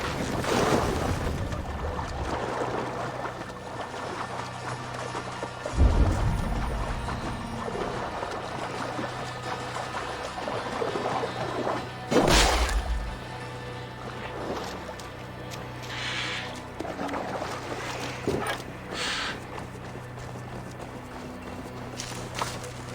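A Viking longship sails in, in Assassin's Creed Valhalla, with steady water wash and creaking hull under a dense game ambience, plus occasional thuds and splashes; no voices heard.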